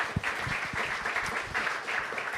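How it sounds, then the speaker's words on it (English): An audience at a candidates' meet-and-greet applauds, steady clapping from a modest crowd in a room, moderately loud and sustained without letting up. "can we give them both a round of applause?"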